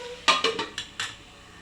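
A metal lid set onto a cooking pan holding a spiced vegetable and chicken snack, producing a quick cluster of five or six bright clinks and rattles up close as it settles.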